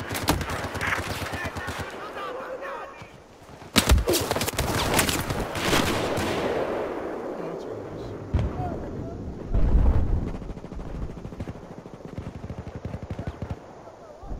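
Abrams tanks fire repeatedly in the Battlefield 4 Caspian Border map, with loud heavy cannon blasts and rolling rumbles of gunfire. The strongest booms come around the middle and again near the end, amid chaotic battle noise.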